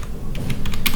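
Computer keyboard keys tapped while entering data into an Excel spreadsheet, a quick irregular run of close clicks over a low background hum.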